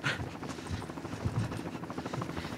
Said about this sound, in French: l'hélicoptère a déjà décollé, avec le blessé à l'intérieur